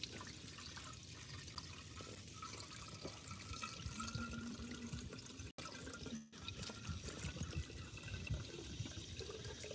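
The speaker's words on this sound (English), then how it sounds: "Just priming this pump with some lake water." Water gurgles and pours steadily while a cheap Chinese water pump is primed with lake water, a continuous splashing, trickling wash that fills the whole stretch with only a brief dropout partway through.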